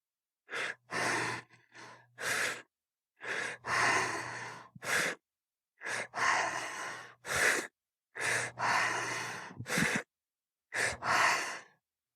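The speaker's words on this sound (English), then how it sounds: "So just when your exhale finishes, you pick up your next inhale." Slow, rhythmic breathing exercise: about six long inhales and exhales, each followed by a short silent gap. Close and airy, with soft sighing releases and no talk.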